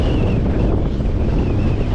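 Strong wind and heavy waves at sea, heard from a small fishing boat at night while a net is out, a steady, loud roar of broadband noise with no pauses.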